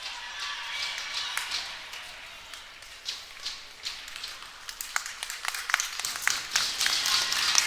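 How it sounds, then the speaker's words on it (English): Scattered, encouraging applause and light clapping from a crowd in an ice rink during a U13 AAA skating skills competition, uneven and moderately distant, building slightly toward the end. "He gets a encouraging applause from the crowd."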